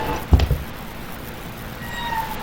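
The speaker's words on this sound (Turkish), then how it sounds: "Sanki kedi mi yavlıyor?" A cat meows briefly, once or twice, in the horror game P.T., over a steady low ambient hum with faint tonal sounds in the background.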